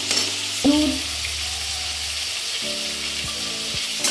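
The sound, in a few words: frying prawns and spice mix with Malabar spinach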